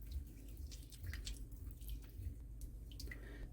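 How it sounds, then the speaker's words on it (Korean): Gochujang sauce bubbling over high heat for jinmichae-bokkeum, a steady close simmer with soft popping bursts and faint wet spatters throughout, no voices. "이거를 센 불에서 이렇게 끓여."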